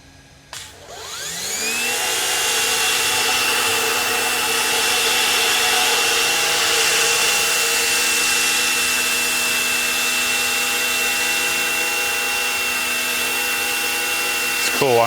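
An EGO Power+ battery pressure washer, self-primed and drawing water from a bucket, runs steadily for the whole stretch after a brief start-up, a loud close whine with a constant motor hum and no pauses.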